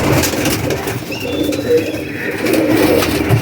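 Rare Mehron-wale and Saudi pigeons kept in a loft coo in a low, continuous murmur, several birds blending into a steady bed of soft calls close by, with no talking.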